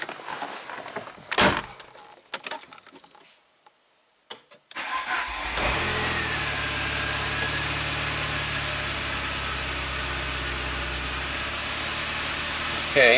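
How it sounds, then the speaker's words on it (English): A 1993 Saab 9000 CSE Turbo engine fires up after a few seconds of clattering and quiet, then settles into a steady, close idle that holds evenly to the end. "let's see how it idles with that little adjustment."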